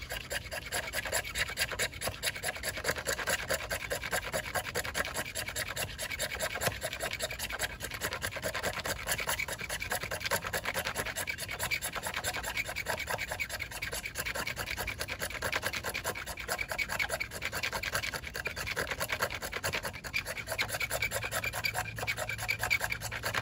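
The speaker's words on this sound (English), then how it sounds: "let me take some of the thickness out on this end of the fat wood" A blade scrapes a piece of fatwood in a fast, steady rasping rhythm, close and continuous for the whole stretch with no pauses and no talking.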